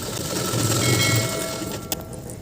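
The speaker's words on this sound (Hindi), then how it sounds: "अब हम इस पर एक और सिलाई लगा देती हूँ।" A sewing machine runs steadily, stitching the gathered double umbrella sleeve of a kurta; a continuous mechanical whir holds at close range for about two seconds, then ends with a brief click and no voices.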